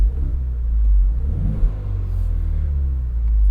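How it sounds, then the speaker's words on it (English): A 2025 Ford Mustang EcoBoost convertible with its exhaust set to quiet mode gives a steady low rumble and a brief swell of revving midway, heard close and continuous with no talk. "I have my custom mode to have quiet exhaust."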